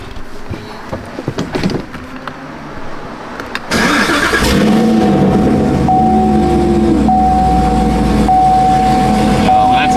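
A 2017 Chevrolet Camaro SS 1LE V8 engine cranks and fires up, settling into a loud, deep, steady idle after a few seconds of rustling, heard close from inside the car.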